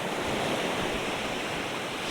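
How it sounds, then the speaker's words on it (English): Sea waves wash onto a beach, a continuous broad roar of surf with no pauses, close and fairly loud, with some wind noise mixed in. "When the sea roars, you can scream into the sea."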